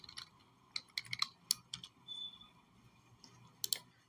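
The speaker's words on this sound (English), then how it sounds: "so we will type our admin password" Quiet, close keystrokes on a computer keyboard as an admin password is typed, a short irregular run of light clicks with brief gaps between them.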